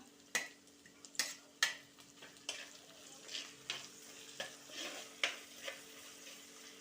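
Curry leaves and green chili frying in a pan for Kerala fish curry, with soft sizzling broken by a series of sharp spoon-stirring scrapes and taps against the pan, fairly close and moderately quiet.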